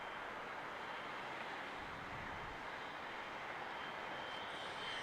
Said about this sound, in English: Looks like a private jet.